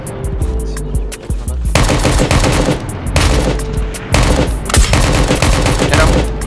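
Gunfire in the game Project Delta, with dense automatic bursts and rapid cracks that start and stop several times. The firing is loud and close, and there is no talk over it.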